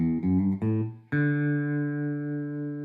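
Guitar chords strummed in a syncopated off-beat pattern for a song: three short chord stabs in quick succession, then a fourth chord left ringing and slowly fading, played alone with no voice.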